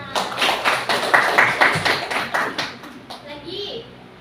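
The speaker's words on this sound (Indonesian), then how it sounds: "Tepuk tangan." A group of people claps in an uneven burst of applause, loud at first and then tapering off, with children's voices mixed in.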